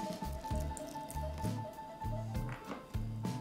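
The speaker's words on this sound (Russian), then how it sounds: "Добавляю молоко." Milk goes into cake batter for a quick tea pie, giving soft wet squishes and drips in a few uneven bursts, fairly faint, over quiet background music.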